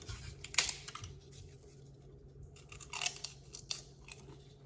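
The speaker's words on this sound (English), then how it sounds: "So let's try one of these crackers." Crunchy Indian crackers are bitten and chewed close up, with sharp crunches in two loud bursts and softer chewing between, and no talking.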